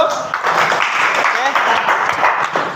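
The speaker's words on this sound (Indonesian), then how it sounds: "Beri tepuk tangan dulu." A classroom of students gives a short burst of clapping after a drawing presentation in an arts lesson, with voices talking over the applause.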